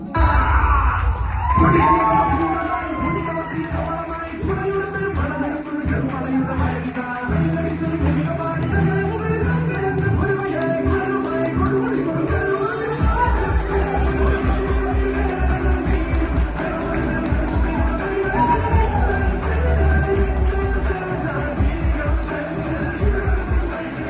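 Audience cheering and applauding at a musical skit performed by senior ladies, a sustained lively crowd roar with shouts and whoops carrying on throughout under a voice.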